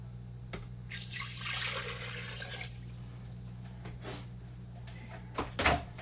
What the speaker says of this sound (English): I just take 3 cups of water and pour it in here.